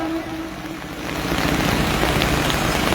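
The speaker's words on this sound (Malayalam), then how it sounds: "മഴയാണ്." Steady, dense rainfall pattering on surfaces during an election campaign event in Nilambur, loud and close, swelling slightly after the first second with no voices.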